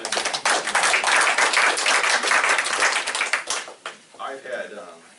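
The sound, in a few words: audience clapping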